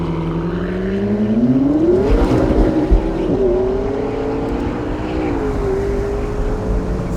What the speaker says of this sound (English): this is how long it takes the McLaren 650S to go from 0 to 100 miles an hour.